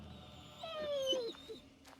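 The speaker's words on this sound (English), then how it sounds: "Is that a dog? It sounds hurt." A hurt dog in the video game Assassin's Creed Shadows whimpers in a thin, drawn-out whine that rises and falls, followed by a couple of soft yelps, close and clear against a quiet background.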